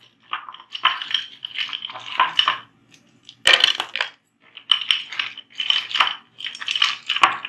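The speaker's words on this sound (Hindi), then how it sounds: "साथ ही अब हमने इसमें ये बर्फ ऐड करनी है।" Ice cubes tumbling into a blender jar holding lightly mashed watermelon for juice: bursts of hard clattering and clinking, several rattling drops in a row separated by short pauses, close and fairly loud with no voices.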